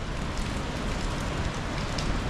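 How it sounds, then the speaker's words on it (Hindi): Heavy monsoon rain pours down in Kasol during July, a loud, dense, continuous hiss of drops hitting surfaces with no break and no voices. "और बारिश तो यहाँ पर 1 मिनट के लिए भी नहीं रुकी है।"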